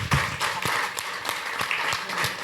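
Audience applause after a book talk on cats in literature, a steady patter of many hands clapping close by with sharper individual claps standing out, no voices over it.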